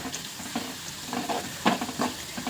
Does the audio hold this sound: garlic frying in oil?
yes